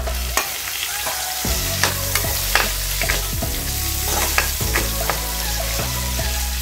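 Onion and whole unpeeled garlic cloves sizzle in hot oil for Filipino adobo, a steady crackling fry punctuated by repeated sharp clicks and scrapes of a spoon stirring the pan, with no voices.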